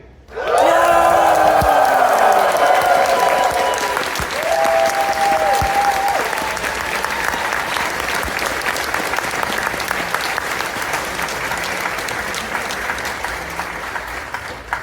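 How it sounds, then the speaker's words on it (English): A large convention audience at a ConFuzzled 2024 closing ceremony cheers and applauds loudly, with whoops rising at the start and then a dense, sustained wash of clapping that holds steady throughout. "if you could send a massive cheer across to them in Sweden"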